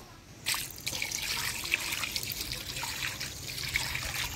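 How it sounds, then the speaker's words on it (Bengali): Oily rita fish is rinsed under hot water, a close trickle and splash of running liquid that starts abruptly and continues in uneven bursts, without speech. "আর একটু আমি গরম জল দিয়ে ধুয়ে নেব।"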